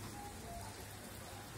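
Light rain in Divnomorskoye patters softly and steadily in a faint, brief wash of drops with no talking.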